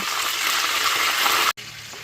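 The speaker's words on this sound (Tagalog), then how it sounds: "Prito po muna natin guys para manuot yung lasa." Loud, close sizzle of chicken frying in a pan, a dense crackling hiss that runs continuously, with a brief cut to silence just before the end.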